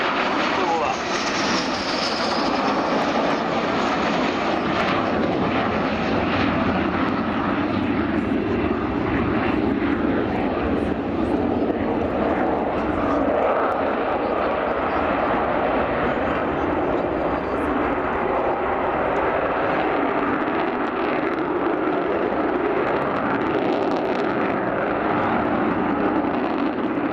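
An Avro Vulcan XH558 jet bomber makes a low pass with gear down at an RAF Cosford air display, its engines spooling up into a loud, sustained roar that fills the whole stretch.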